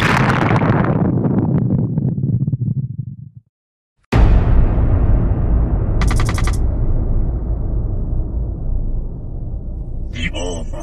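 A bomb blast in a dramatised story erupts with a sudden loud boom after a brief silence, followed by a long rumbling roar and scattered crackles.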